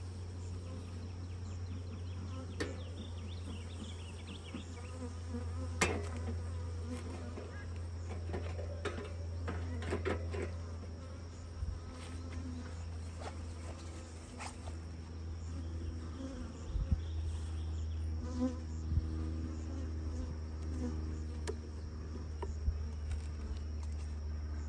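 Bees hum continuously in a fairly sparse beehive during an inspection, a low steady drone with individual insects buzzing closer now and then, plus light knocks and handling noises throughout.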